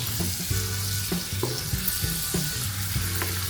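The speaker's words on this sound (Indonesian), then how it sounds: "Sebenarnya bukan goreng ya grill, tapi karena minyak sebanyak jatuhnya bukan grill tapi goreng." Angus beef cooking in a pan with plenty of oil gives a steady, loud sizzle and crackle, with a low rhythmic clatter of stirring or scraping repeating underneath throughout.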